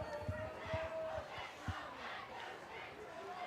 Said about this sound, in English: this home crowd getting more and more excited as they smell a FreddieBurg victory in the cards for them